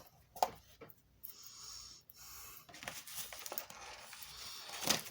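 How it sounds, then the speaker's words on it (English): Tape gets torn off by hand during a papercraft project, a few short crinkling rips and rustles close up, scattered and quiet with brief pauses between them. "So I'm just going to rip off this tape real quick, because I can't find my scissors"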